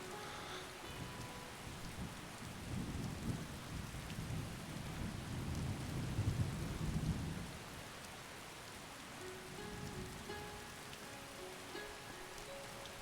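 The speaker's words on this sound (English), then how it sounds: "It's raining out, so it's freaking loud" Steady rain hisses in the Skyrim video game while low thunder rumbles and swells in the middle, then fades back to the even patter of rainfall, fairly quiet overall with no voices.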